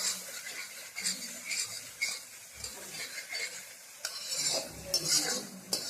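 Masala for prawn malai curry simmers with milk and coconut in a pan, giving a soft sizzle under repeated close scraping and stirring strokes of a spoon.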